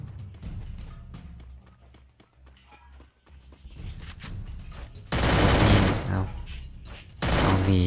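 Gunfire in the mobile battle royale game Free Fire, with sparse shots and clicks early on, then loud dense bursts of automatic fire near the end.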